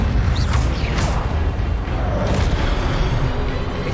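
The Incendio fire spell erupts in the Hogwarts Legacy video game with a loud, continuous roaring whoosh and crackling bursts of flame.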